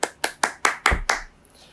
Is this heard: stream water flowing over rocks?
no